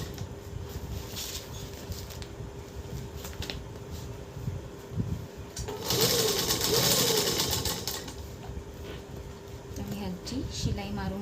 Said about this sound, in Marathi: मी आता हे चारही बाजूने प्रॉपर शिलाई मारून घेणार आहे लॉकिंग शिलाई टाकते